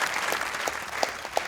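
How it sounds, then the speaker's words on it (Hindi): Studio audience applause on a cricket talk show, a short burst of dense clapping heard close and fairly loud for about a second and a half. "तालियां होनी चाहिए भाई, वाह वाह वाह वाह।"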